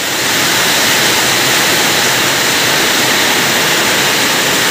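Heavy rain during flooding in Chennai pours down as a loud, unbroken roar of hiss, dense and steady throughout with no voices heard.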